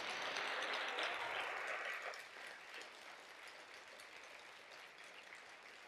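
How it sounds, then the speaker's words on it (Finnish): An audience applauds an award winner at a prize-giving ceremony, a broad wash of clapping that is fairly loud for the first two seconds, then thins out and fades into softer scattered claps. "Annetaan aplodit tälle."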